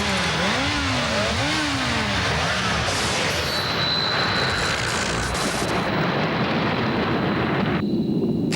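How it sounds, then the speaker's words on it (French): Volkswagen Polo diesel engine revving loudly and droning, with rising and falling pitch sweeps early on, then a steady roar that stops abruptly near the end. "La fiabilité, la longévité et la puissance d'un grand diesel."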